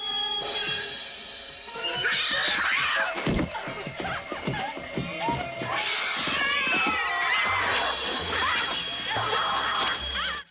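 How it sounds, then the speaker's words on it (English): Several cats meow and yowl over a busy, noisy background with clattering, loud and continuous throughout, from the film The Uncanny. "But Mrs. Malkin has more than one cat"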